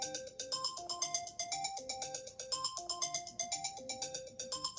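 An iPhone ringtone plays alone: a bright, repeating electronic melody of plucked, bell-like notes in a steady, looping rhythm, loud and close.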